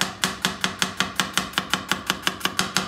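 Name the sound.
chopping garlic roughly with a knife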